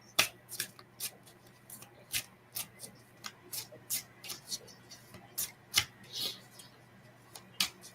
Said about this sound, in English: I'm going to shuffle over here because that sounds bad in the mic